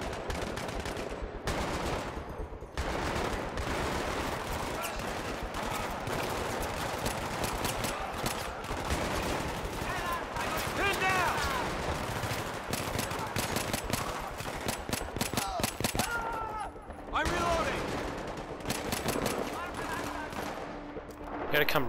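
Battlefield 3 combat sounds: dense, continuous bursts of automatic gunfire and shots fill the scene at close range with hardly a pause, while players talk over the chaos.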